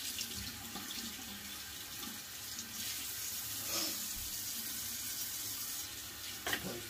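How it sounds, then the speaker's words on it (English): Tap water runs steadily into a sink while a shaving razor is rinsed after a wet shave, a continuous close splashing hiss with faint clatter. "I believe I should rinse this."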